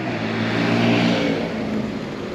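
An electric scooter rated as a 125 equivalent accelerates with a loud, smooth rising whine and rushing wind, steady and close throughout with no talk.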